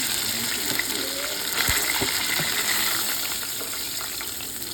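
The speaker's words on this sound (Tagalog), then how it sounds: "Nasunog yung ating fried chicken." Fried chicken frying and burning in a pan gives a steady watery sizzle and crackle with faint scattered pops, close and continuous throughout.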